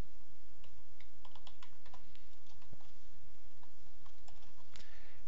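Irregular clicks of computer keyboard keys as a formula is typed into an Excel spreadsheet, close and fairly quiet, with short pauses between bursts of keystrokes.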